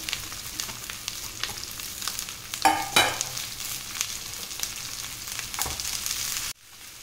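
Pieces of tinde (apple gourd) drop into spiced masala frying in ghee, giving a steady close sizzle with a few sharp stirring scrapes and clatters, then the sound cuts off abruptly near the end.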